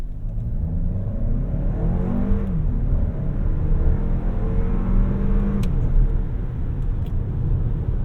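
A 2025 Toyota Crown Platinum Hybrid MAX at full throttle from a standstill in Sport S Plus mode, its engine note rising steadily through a shift with loud, continuous rumble and whir inside the cabin.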